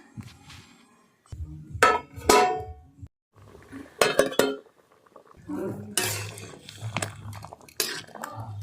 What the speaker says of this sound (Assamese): এতিয়া ঢাকনিখন লগাই দিম, অকণমান সিজি লওক।